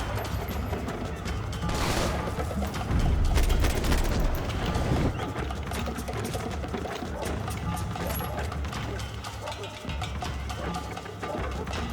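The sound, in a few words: gunfire in the video game Max Payne 3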